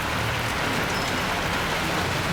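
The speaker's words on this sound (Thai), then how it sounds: "นี่ครับฝนตกนะ" Heavy rain pours down steadily, a dense, unbroken hiss drumming on surfaces with no voices.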